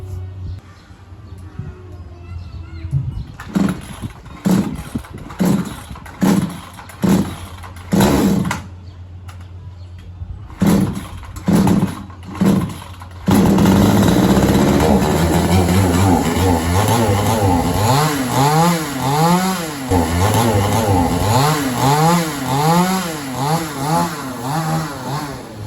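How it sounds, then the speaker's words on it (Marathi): A small fuel-powered machine is pulled to start with several sputtering, stuttering bursts, then catches and runs continuously with a loud, buzzing, fluctuating engine roar up close. "आता पहिले आधी आपण मशीन चालू करू."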